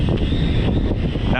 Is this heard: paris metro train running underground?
no